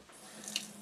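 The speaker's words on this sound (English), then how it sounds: "I'm gonna put some water in it" Water from a tap runs into a cat's food bowl indoors, a short steady stream with a slight splash near the end, fairly quiet and close.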